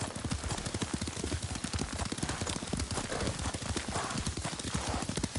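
Steady clip-clop of horse hooves at a riding pace in Ghost of Tsushima, rhythmic and close, with faint voices underneath.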